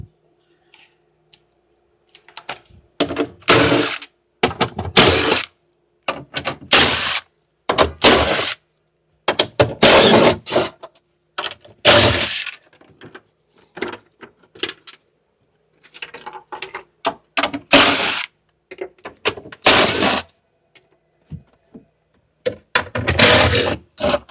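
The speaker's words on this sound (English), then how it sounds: "we're just gonna remove this plate. We use 12 mm socket for it." A 12 mm socket wrench removing the bolts of a plate on a 2013 Hyundai Genesis sedan during parking brake module removal, a series of sharp ratcheting bursts with short pauses in between, close and loud, with no talking.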